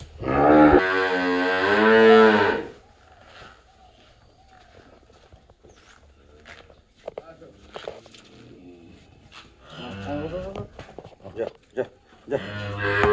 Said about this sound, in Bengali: এখন হাটের গরুগুলো বের করা হবে